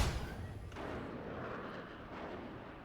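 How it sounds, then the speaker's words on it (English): Spaceship laser cannons in the space combat game Star Citizen let off a sharp blast that fades into a low, rumbling decay, heard faintly and alone. "No, these laser cannons are just total crap."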